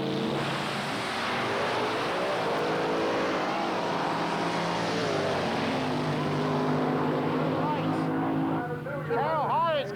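Drag racing cars from the 1987 Wild Bunch era, including a Fiat Coupe, roar loud and steady down the strip under excited race commentary, engine pitch climbing before fading toward the end.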